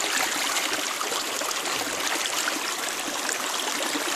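A mountain river in the Carpathians near Gropa rushes and splashes continuously at close range, a dense, steady roar of flowing water with no pauses.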